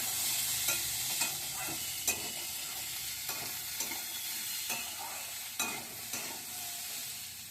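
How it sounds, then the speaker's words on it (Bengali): A pan of cauliflower, carrot and peas keeps frying with a hissing sizzle while a spatula scrapes and taps in a loose, repeated rhythm, close and moderately quiet, no voices present. "ফুলকপি, মটরশুঁটি আর গাজর একসাথে 3 মিনিট ভাজা হয়ে গেছে"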